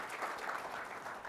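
An audience at a tech conference session claps in a short, steady burst of applause filling the room, moderately loud with no pauses.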